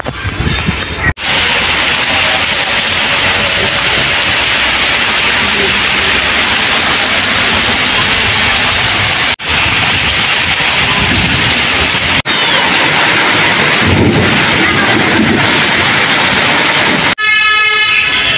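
A heavy rainstorm roars outside a memorial's office veranda in Bangladesh, a loud, unbroken wash of falling rain with a few brief dropouts, continuing for nearly twenty seconds without speech.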